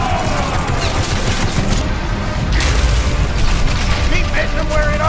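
Ship cannons fire in a naval battle in the VR game Battlewake, a dense, loud barrage of booms and blasts that runs continuously under shouted voices and music.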